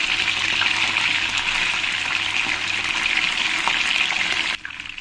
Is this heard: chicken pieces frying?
yes